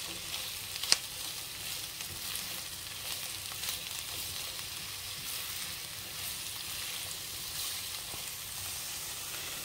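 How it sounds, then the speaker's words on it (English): Onions and poblano peppers sizzle in hot oil in a single pan for shrimp fajitas, a steady, even frying hiss that runs unbroken for the whole stretch at moderate loudness, with no voices. "Okay, the oil is heat up. I'm gonna add the onions and the peppers to this mixture."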